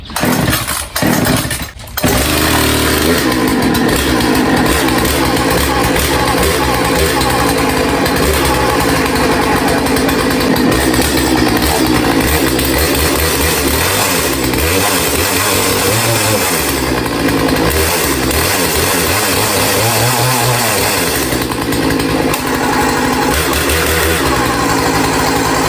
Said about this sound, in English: Let's just try pull starting it.